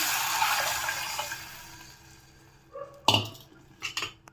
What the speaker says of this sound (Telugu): ఇప్పుడు ఇందులోకి వాటర్ వేసుకుందాము.